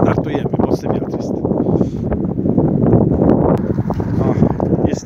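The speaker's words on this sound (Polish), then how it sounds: "Mocny wiatr jest." Strong winter wind buffeting the microphone with a steady, roaring rumble, gusting throughout, with faint talk mixed in, just before a pigeon release at Kosakowo.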